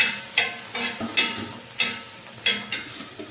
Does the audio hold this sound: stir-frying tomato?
yes